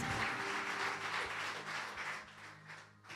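Congregation applause during a bilingual church service, a soft continuous wash of clapping that fades out toward the end.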